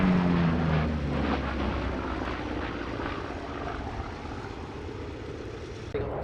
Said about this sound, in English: that was probably Pete's goodbye flyby